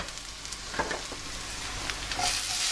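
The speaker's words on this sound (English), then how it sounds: "just give these onions and garlic and chili just a little bit of a quick saute" Onions, garlic and chili sauté in a pan, a steady close sizzle with soft stirring scrapes, growing slightly louder toward the end.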